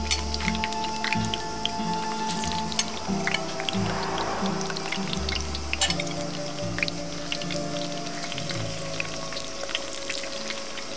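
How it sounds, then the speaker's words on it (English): Salted vegetable slices for moussaka frying in hot oil during a traditional Greek cooking lesson, a steady bubbling crackle with scattered drips and pops that runs throughout at moderate loudness. "Maria will help us to fry and show how we'll fry them"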